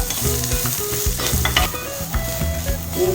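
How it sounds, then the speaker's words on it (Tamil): Onions with green chili are stirred and sautéed in a pan for a soya bean dish, with a steady sizzle and repeated scraping strokes of a spoon, close and alone. "இப்போ வெங்காயத்தை அதையும் நல்லா கிளறி விடுங்க."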